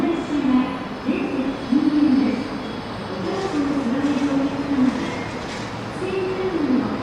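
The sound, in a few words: N700 series Shinkansen Sakura train arriving at Shin-Kobe station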